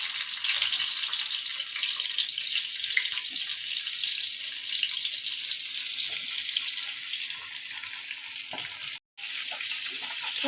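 Water is drained off cauliflower in a kitchen, producing a steady, close hiss of running and splashing water that continues almost without break, with one very brief dropout near the end.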